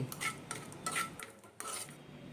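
A spoon scrapes and clinks against a pan while a thickening mint hazmi mixture with roasted cumin powder is stirred, in bursts of close, rhythmic scraping with brief pauses.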